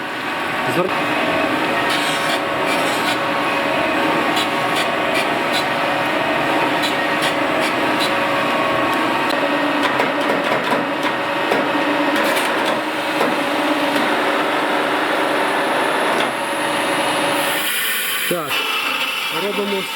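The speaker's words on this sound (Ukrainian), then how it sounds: "І я шліфую стіл." An electric sander whirs continuously against a wooden table, a steady close-up grinding drone with slight shifts in pitch as it moves.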